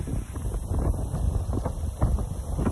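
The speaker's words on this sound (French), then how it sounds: "Le vent s'est un petit peu levé." Gusty wind on an Indonesian surf beach near the Keramas wave, buffeting a microphone, rumbling low and fluctuating in strength throughout.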